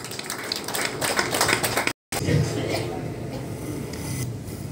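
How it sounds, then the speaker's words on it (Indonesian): An audience claps steadily for the regent at the opening of a new port office in Lembata, with a brief cut midway and voices talking over the clapping. "Tepuk tangan untuk Pak Bupati."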